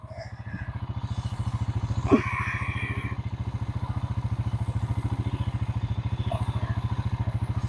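Four-wheeler ATV engine chugging in a steady rapid idle-like pulse throughout at moderate distance outdoors, with a brief clatter partway through.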